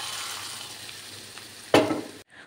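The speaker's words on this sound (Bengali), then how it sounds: "এখন এই গরম তেলটা আমরা সরাসরি মশলার মধ্যে দিয়ে দেব।" Hot oil poured straight onto spices for a garlic soup, a sudden loud hiss near the end rising over a faint background sizzle, close and without talk.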